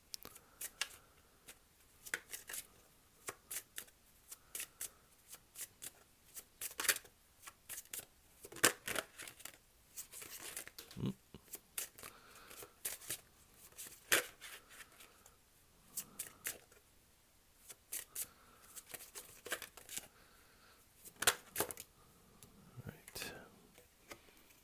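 Tarot cards being shuffled for a reading make soft, scattered papery flicks and riffles, quiet and intermittent, under low whispered speech.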